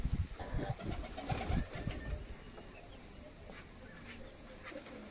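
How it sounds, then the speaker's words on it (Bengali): Green-eye pigeons in a fancier's loft, with soft cooing, a burst of flapping wings near the start and faint rustling afterwards, fairly quiet with no clear talk. "গ্রিন আইস পায়রা দেখো বন্ধুরা"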